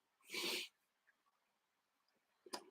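A single close, loud sneeze bursts out, followed by quiet breathing and a brief sniff or snort a couple of seconds later.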